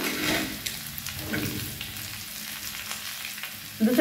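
Fish frying in a pan over a low flame gives a continuous close sizzle and crackle, with a brief louder spatter burst at the very end.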